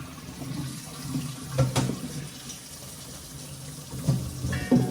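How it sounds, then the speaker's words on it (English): Potatoes being rinsed in a kitchen sink and drained through a colander, a quiet running and sloshing of water with a few louder splashes and clunks. "We wash them 3 times in water. And I take a colander and do this to drain them all off."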